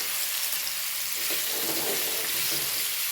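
Steady broadband sizzle from a pan where banana slices are sautéed for a dessert, a continuous close frying hiss with faint stirring underneath.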